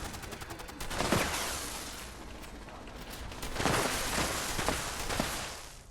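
Turrets firing in Fallout 76 during a Vault 94 raid, rapid bursts of automatic gunfire in clustered volleys that swell and fade, moderately distant, with no talk over it.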